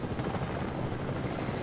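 A helicopter in the Fortnite video game drones at close range, the steady throb of its rotor and engine heard on its own without talk.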